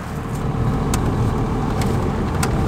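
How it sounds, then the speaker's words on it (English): A 1998 Cummins 12-valve diesel truck with a 5-speed gearbox drives along, giving a steady low engine drone and road rumble heard from inside the cab, with a few faint clicks. "About to drive the 1998 12 valve 5 speed Cummins through Columbus, Indiana"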